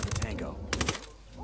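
Gunfire in the tactical shooter Ghost Recon Wildlands comes as two quick bursts of sharp, close shots separated by a short pause, followed by a fading tail.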